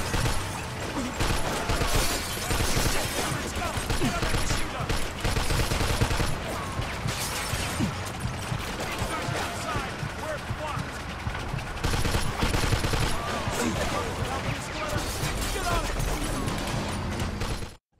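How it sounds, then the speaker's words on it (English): Mafia 2 game combat: loud, sustained machine gun fire and dense overlapping gunshots, with crashes and shattering, run almost nonstop, while voices shout over it. "Get on that machine gun!"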